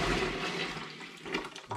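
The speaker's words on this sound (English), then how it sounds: "now what I want to do is pour this into the big pan" Home-brewed raspberry ripple porter liquid is tipped from a wok into a big pan, making a close, brief rushing gush of liquid that tapers off over a couple of seconds.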